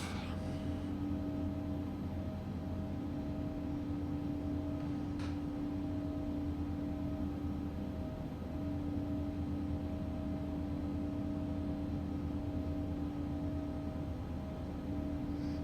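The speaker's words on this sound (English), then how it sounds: "Now let's taxi to the runway, and then before takeoff." Embraer ERJ regional jet taxiing toward the runway in the X-Plane 12 flight simulator, a steady engine whine and hum droning continuously with a faint click partway through.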